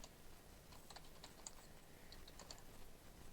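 Keys being typed on a computer keyboard to enter a short phrase, heard as quiet, faint, irregular clicks spread across a few seconds with no talking.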